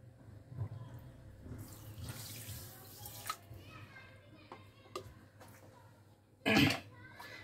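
Water is poured onto two cups of sugar in a pan to make jilapi syrup. A soft splash comes under a quiet voice, followed near the end by a short, loud gush.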